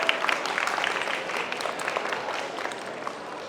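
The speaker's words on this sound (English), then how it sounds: "Big round of applause for the Scottish." Applause from the audience beside a cat show catwalk at Olympia in London after Scottish cats are presented, steady, moderately loud clapping running throughout with a light crowd murmur.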